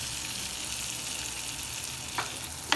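Garlic, green garlic and whole peppercorns crackle in hot butter as a tempering, a dense, even sizzle heard close up with a couple of faint clicks near the end.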